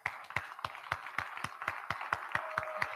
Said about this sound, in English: Please stand up and clap your hands.